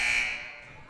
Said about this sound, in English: The buzzer always throws me off a little bit. It's very loud.